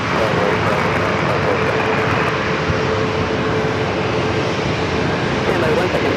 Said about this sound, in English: this Southwest flight heading to, I believe, Vegas.